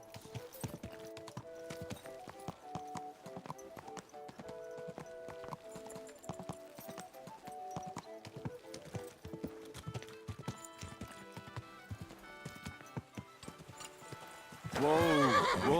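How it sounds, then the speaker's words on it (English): Rhythmic clip-clop of horse hooves over a light musical backdrop in the video game Kingdom Come: Deliverance 2, ending with a loud horse whinny near the close. "My, what a beautiful horse."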